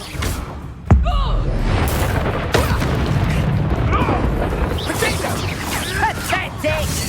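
Incendio fire spell cast in Hogwarts Legacy combat: a sharp boom near the start, then a dense, continuous roar of fiery battle noise with a second thump, while voices shout over it.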